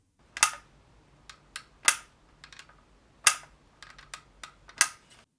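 Sharp plastic clicks and snaps come from the mechanism of a 3D printed plastic .44 Vendetta Magnum revolver cosplay prop. Several loud clicks are spaced irregularly, with lighter ticks between them, close up and with no talking.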